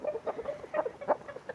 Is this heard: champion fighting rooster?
yes